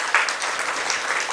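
A church congregation claps together in praise of God during a Telugu sermon, a dense, steady wash of hand claps sustained for a moment with no voices over it.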